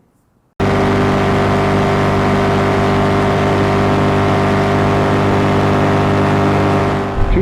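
A famous race car's engine snaps on and holds a loud, sustained high-rev roar at nearly 8,000 RPM, steady and close throughout the run with no voices.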